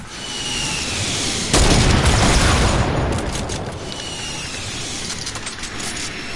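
A rocket explosion in Fortnite, a loud deep boom bursting suddenly out of steady game noise and rumbling away over a couple of seconds, followed by fainter crackles and pops.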